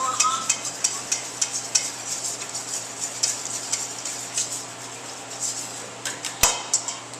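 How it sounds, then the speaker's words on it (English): Honey and olive oil being whisked together in a bowl for muffins, quiet repeated scraping and tapping strokes in an irregular rhythm, close and fairly soft. "The honey and the olive oil we're whisking together."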